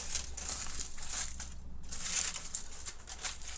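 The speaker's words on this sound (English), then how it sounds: "I'm going to put a foil on that" Aluminum foil crinkles and rustles in a continuous close crumpling as it is pressed over a dish of pork loin before going into the oven, with a brief pause midway.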